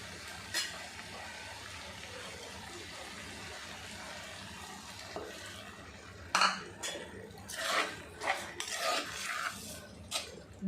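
Dried anchovy fish cooks in a pan with a little water, faint simmering at first, then clattering stirs and scrapes of a utensil against the pan in bursts.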